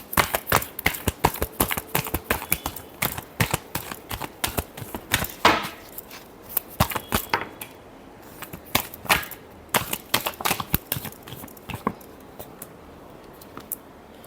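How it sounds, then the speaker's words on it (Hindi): Tarot cards being shuffled by hand, a close run of quick papery flicks and taps in irregular bursts, pausing briefly midway before resuming, with no talking. "Last shuffle."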